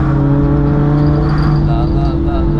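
A Nissan R35 GT-R on the Nürburgring, heard from inside a following car as a loud, steady engine drone and road roar that holds constant throughout, with a faint whine above it.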